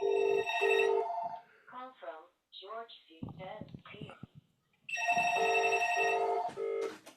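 A telephone ringing in repeated double bursts, loud and close, with someone talking during the pause between rings before the ringing starts again.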